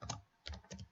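Faint keystrokes on a computer keyboard while code is being typed: three soft, close clicks spread over about a second, with no speech.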